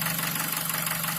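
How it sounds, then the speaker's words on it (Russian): Nissan QG18DE engine, run on gas for 60,000, idling with a suspected piston pin knock in the fourth cylinder; a steady close mechanical clatter holds a low hum throughout, alone with no voices. "может ли быть такое, что пальцы стучат в четвертом цилиндре"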